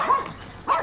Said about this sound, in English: we've got flipping dogs everywhere